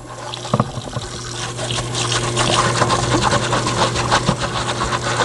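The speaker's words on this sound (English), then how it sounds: "We'll get most that we can off by rinsing it" Water runs and splashes over a rusty metal part just pulled from a vinegar bath, a continuous nearby trickling and gushing with a steady hum beneath and a few clunks of handling, with no talking.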